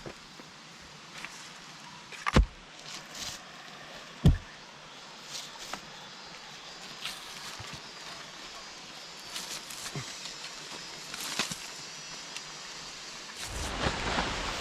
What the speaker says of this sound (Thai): ฝนตก ฝนตก ฝนตก